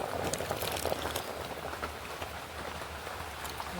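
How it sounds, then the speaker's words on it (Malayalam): Palakkad-style pulinkari curry with coconut paste bubbling as it boils in a pot, a steady dense crackle and pop of bursting bubbles, continuous and fairly quiet, close up with no voices. "അരപ്പ് ചേർത്ത് കറി തിളച്ചിട്ടുണ്ട്."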